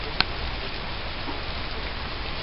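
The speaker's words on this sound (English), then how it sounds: "Raining, raining, raining, raining" Steady, dense hiss of rain falling throughout, with one brief sharp tap near the start.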